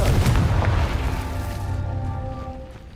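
A Confringo blasting spell from Hogwarts Legacy detonates in a deep, loud boom that rumbles heavily at first, then fades into a lingering ringing tail with faint tonal shimmer.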